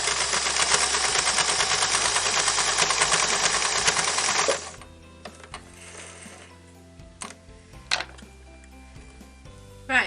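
A sewing machine runs steadily and loudly, stitching the final seam of a fabric tote bag, then stops and gives way to scattered clicks and handling noises.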